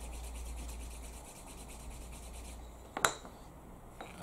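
Wax on a leather edge is burnished by rubbing, giving a steady soft rasping friction sound, close and quiet, with one sharper scrape near the end.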